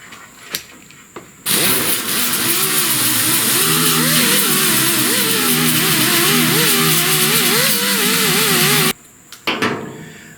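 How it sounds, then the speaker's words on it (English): A handheld grinder runs on a 1969 C10 rear body panel, grinding off small high burrs from dent repair: a loud, sustained close whine that starts abruptly, wavers in pitch as it bites the metal for about seven seconds, then cuts off. "let me take one more stab with the grinder. I want to make sure these little high burrs are ground off."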